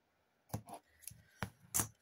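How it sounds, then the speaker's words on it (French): Scissors snip through ribbon for a handmade fringed card, a few crisp close cuts in quick succession with short pauses between them. "Alors, je vais couper."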